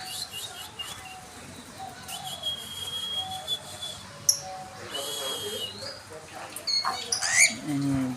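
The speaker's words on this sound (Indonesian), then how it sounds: "ini keterangannya burung palek, burung parkit Australia." An Australian budgerigar (parakeet) squawks and chirps close by in repeated shrill calls, with whistles growing busier toward the end, over a noisy background.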